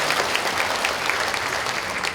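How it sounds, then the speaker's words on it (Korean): Audience at a county governor's talk concert in Uljin applauds warmly, a thick, even spread of many hands clapping from start to finish without speech. "큰 감사의 박수 부탁드리겠습니다"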